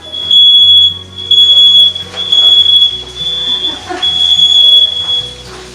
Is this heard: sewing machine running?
no